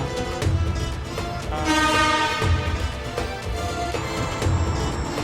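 A light rail train rumbles and screeches along the rails into Ampera station in Palembang, Indonesia, with a horn-like tone sounding midway; steady, fairly loud mechanical noise throughout.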